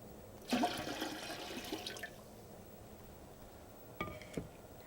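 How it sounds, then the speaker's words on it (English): Water poured from a tap into an empty home canner set on a stove, a splashing rush that swells at once and tapers over about a second and a half, followed by a short second burst of running water near the end. "add 2 to 3 inches of water."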